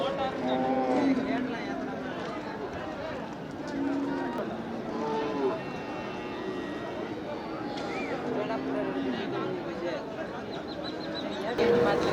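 Cattle at the Manapparai cow market, with moos and shuffling livestock heard close by under constant crowd chatter and people talking.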